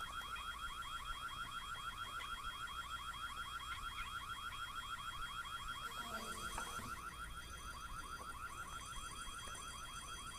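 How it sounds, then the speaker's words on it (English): An alarm in the game White Day whoops in a steady, fast pulsing cycle, loud and continuous, with a brief clatter partway through. "try to turn off the alarm"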